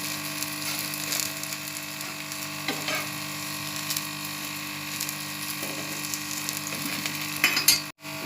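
A bajra (pearl millet) roti is being turned and pressed on a hot griddle, giving a soft, steady sizzle with faint scraping touches and a brief clatter near the end. No voices are heard.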